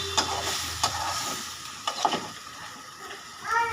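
Potato and egg chochchori with new potatoes, green chilies and oil is stirred in a hot pan, giving a few spaced scraping strokes over a soft, steady sizzle, close and fairly quiet.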